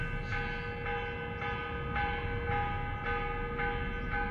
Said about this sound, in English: Someone's ringing the bells.